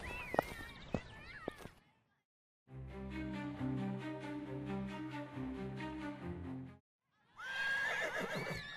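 A horse whinnies in a stable in a radio drama: one long, loud, harmonic neigh alone between stretches of other sound, with clip-clop and rustling before it and a bright noisy burst after.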